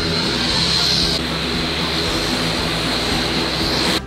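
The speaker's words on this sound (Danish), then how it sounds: "Det er jordens mindste fly, vi skal flyve i det der." A very small propeller airplane, its engine droning steadily and loudly, close by and continuous with no talking.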